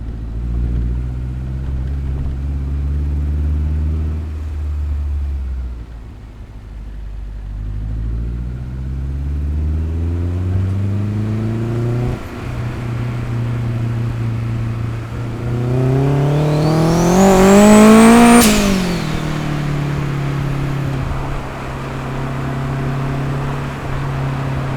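A turbocharged Honda Civic with a bonnet-exit wastegate accelerates hard through several gears, its engine note climbing and dropping with each shift, then swelling loudly with a sharp whistling rise near the end before settling back.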